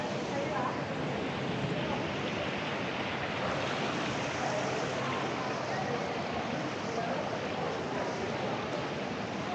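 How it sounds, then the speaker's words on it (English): A small indoor waterfall in a Manila shopping mall, a steady broadband rush of falling water that fills the whole stretch without pause, with faint murmur of the space around it. "Just came over to have a look at this bit of a waterfall."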